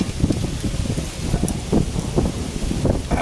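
Gusty wind blows steadily outdoors around a charcoal chimney starter being lit with resinous pine, a rough, close, continuous rushing with buffeting microphone noise and no talking.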